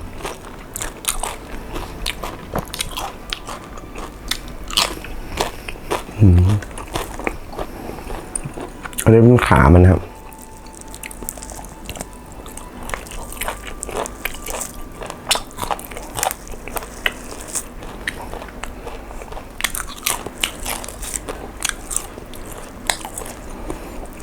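Crispy roast pork skin crunches loudly when bitten, with a couple of sharp, close crunch bursts between chewing sounds, while people talk throughout.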